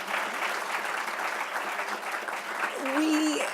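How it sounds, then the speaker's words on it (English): An audience at a journalism panel event applauds the speakers with sustained, fairly loud clapping. A voice with a brief tonal sound joins near the end. "So a round of applause for all of our speakers."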